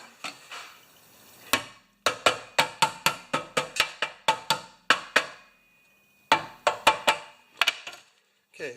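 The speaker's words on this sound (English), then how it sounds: "Give it a little tap." A 1971 Briggs & Stratton engine part being tapped with a hammer, a series of sharp metallic knocks in quick irregular bursts with pauses between, close and clear.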